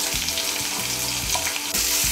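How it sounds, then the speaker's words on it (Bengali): Chopped onion with green and red chillies fries in oil with a loud, close, continuous sizzle. Spatula scrapes and stirs come back every half second or so. "পেঁয়াজ কুচিটাকে তেলের সঙ্গে মিশিয়ে নিয়ে লাল করে ভেজে নেব।"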